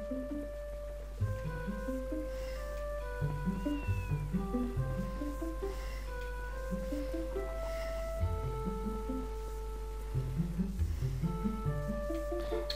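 Cat meowing in the video game Zelda Twilight Princess, repeated short meows over a steady low hum and tonal game music.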